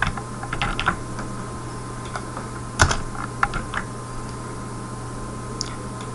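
Typing C code on a computer keyboard, a run of quick uneven key clicks with a louder keystroke partway through, close and clear over a steady low hum, then the keys trail off into quieter hum with no talk.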